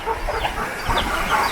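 Chickens cluck in short, busy bursts close by, outdoors on a windy day, with a rough breezy background behind the calls.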